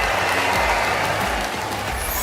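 Audience applause at a large company anniversary event and product launch, a loud, dense, continuous roar of clapping from a big crowd.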